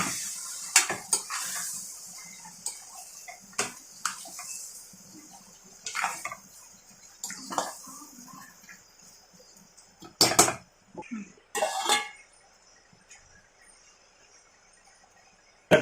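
Mutton curry mixed in a pot, with intermittent metallic clanks and scrapes of a spoon against the vessel separated by quiet gaps, a few louder knocks near the end.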